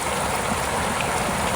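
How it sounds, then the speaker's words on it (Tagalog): Steady broadband rain hiss, dense and continuous, like a heavy downpour pattering on surfaces close by, recorded outdoors in the Philippines. "medyo kusog-kusog man ang ulan"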